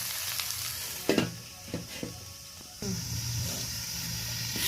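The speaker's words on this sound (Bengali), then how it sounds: "মরিচ ঝোলে হালকাভাবেই সমস্ত সবজিগুলো ভেজে নিতে হবে" Vegetables fry lightly in a chilli-gravy pan under a lid, a muted sizzle marked by a few sharp knocks that gives way to a louder, steady hiss.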